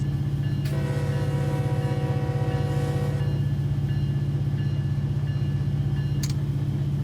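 A coal train in the Run 8 Train Simulator video game rolls through a dirt road crossing, with a steady rhythmic clatter of wheels under a loud, sustained horn blast that cuts off partway through.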